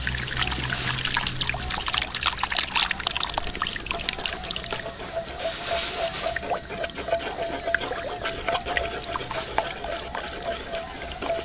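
Thick pig's blood poured into a cooking pot for dinuguan, a steady liquid trickle and splash that runs continuously, close and moderately loud, with faint kitchen clatter and no talking.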